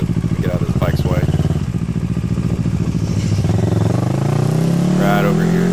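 A motorcycle on Grizzly Peak runs loud and close throughout, its engine note rising as it pulls past, with a voice briefly heard under the roar.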